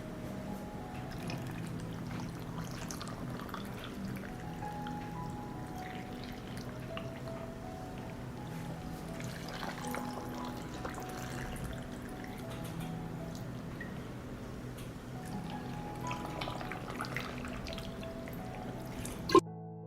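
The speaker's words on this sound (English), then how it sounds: "I pour water into each jar to cover the ingredients." Water is poured into glass jars of eggs with red pepper, giving a faint, steady trickle and dribble over a low background hum throughout.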